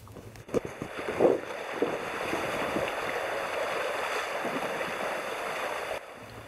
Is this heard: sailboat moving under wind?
yes